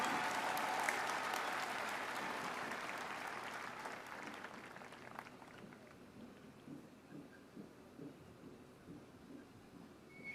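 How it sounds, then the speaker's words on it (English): A crowd at a high school commencement claps for the class valedictorian. The applause starts strong, then fades gradually over ten seconds into scattered, quieter claps. "please give a round of applause for the Union Grove Class of 2021 valedictorian"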